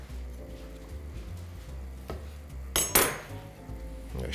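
Parboiled broccoli pieces are tipped into a pan of food, giving a few clinks and knocks of cookware and utensils against a quiet kitchen background, with one sharp clatter near the end.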